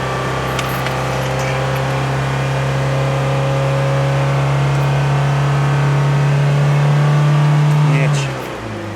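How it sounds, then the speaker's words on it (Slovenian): A car engine, on a 30-year-old Lada Niva, hums steadily and climbs slightly in pitch as the accelerator is pressed for several seconds, then drops off abruptly near the end. "Ajde, pejdi ti dati po gasu, dej."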